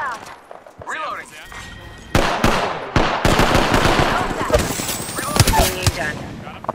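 Gunfire in a battle royale game, with bursts of rapid machine-gun shots and single loud cracks and thuds that grow dense after a quieter start, mixed with in-game voice callouts.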